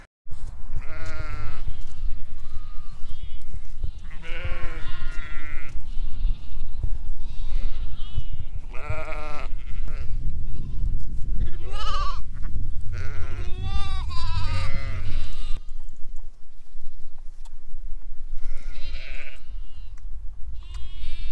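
Ewes bleating in a lambing shed, a flock calling repeatedly with overlapping loud and fainter bleats, some close and some farther back, over a steady low background hum.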